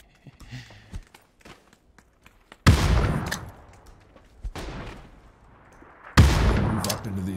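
Grenades thrown into dirt mounds in the battle-royale video game PUBG: after some faint footsteps and taps, two loud, booming explosions hit a few seconds apart, each trailing off in a long rumbling roar.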